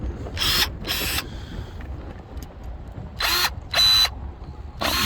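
Several short mechanical snips from a DeWalt 20-volt cordless pruner cutting plant branches come in quick pairs, each a sharp buzzing whir, over a background of wind noise and low rumble.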